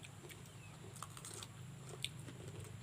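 Someone bites into and chews a hard, crunchy, half-ripe papaya close to the mic, producing faint crisp crunches and soft chewing over a quiet outdoor background.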